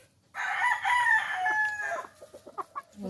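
A single RRZN Kanawayon gamefowl rooster crows close by, a long drawn-out call followed by a few short clucks.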